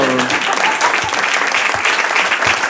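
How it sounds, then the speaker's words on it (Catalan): An audience at a poetry reading in Santa Coloma de Farners breaks into dense, continuous applause, a steady wash of clapping from a full crowd with a brief tonal hum at the start. "Doncs un aplaudiment pel que l'ha enterrat i pel desenterrador"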